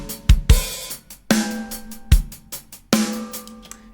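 Snare drum from the ML Drums plugin, tuned higher, struck several times in a sparse pattern with low kick hits mixed in; hits are sharp and close with short ringing tails, no talking.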